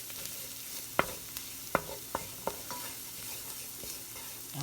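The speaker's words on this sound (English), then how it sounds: "Stir that in there." Flour is stirred into garlic sizzling in a frying pan, a soft low hiss broken by several sharp utensil taps against the pan, quiet and close with no talk.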